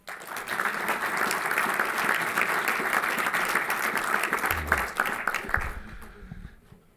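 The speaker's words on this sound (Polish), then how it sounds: "cała sala oklaskami wita w Toruniu prezydenta Bydgoszczy" A hall audience at a Civic Coalition parliamentary club meeting in Toruń applauds steadily with dense, sustained clapping that carries on for several seconds, then thins and fades out toward the end.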